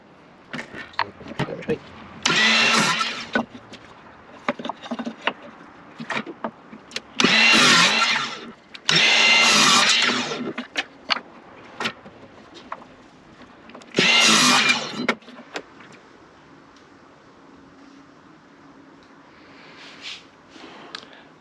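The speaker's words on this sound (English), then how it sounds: "I just want to do 4 corner braces, so I'm just going to cut angles that way so that these can sit in the corner" A power saw cutting angled timber corner braces for a floating picture frame, several short bursts of buzzing cuts spaced apart, with a person talking between them.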